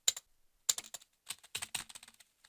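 Computer keyboard keys pressed repeatedly while setting up Windows NT on a Wii, sharp close clicks in uneven bursts with short pauses between, with no talk.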